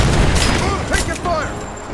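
Gunfire in the Rise of the Tomb Raider video game: a brief, loud flurry of shots and impacts in a firefight, with voices talking over it.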